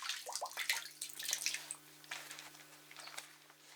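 Water in a village spring reservoir kept in a cellar, scattered drips and small splashes with light trickling, faint and close, over a quiet steady electrical hum, no voices.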